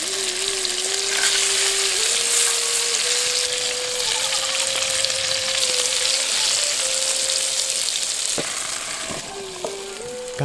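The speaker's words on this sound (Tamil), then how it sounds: "கத்திரிக்காய் ரொம்ப கொல கொலன்னு போகாத அளவுக்கு எண்ணெயில வணக்கி எடுத்துக்கலாம்." Brinjal fries in hot oil with a steady, dense sizzle and crackle throughout, a faint tonal hum beneath and a few clinks near the end.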